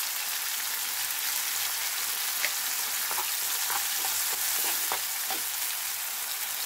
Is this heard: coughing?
no